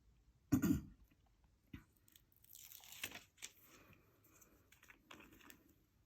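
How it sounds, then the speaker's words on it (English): Paper is burnished during a sparkly glitter craft project: a sharp knock at the start, then a stretch of dry rubbing and crinkling scrapes, close and fairly quiet, with no talking. "Give it a little burnish."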